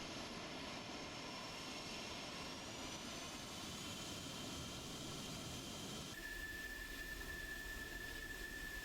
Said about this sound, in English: So that just leaves Kingston bringing it in the Hornet. He's going to do an overhead brake, maybe.